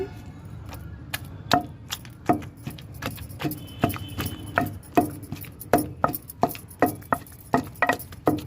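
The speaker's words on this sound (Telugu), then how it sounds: "టమాటా జాగ్రత్తగా దంచుకోండి కళ్ళల్లో పడకుండా" Tomato being pounded in a mortar for okra chutney makes a series of sharp knocks and thuds at an uneven rhythm, close and fairly loud.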